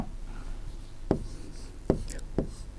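Handwriting the Hindi word for 'suit' during a second-grade Hindi exercise, heard as a few sharp, close pen or chalk strokes over a quiet room murmur.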